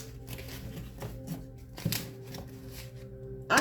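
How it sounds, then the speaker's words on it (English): Tarot cards are shuffled and set down in a few rustling, slapping bursts at close range, with a louder riffle near the end and no voices. "Let me put these cards over here real quick."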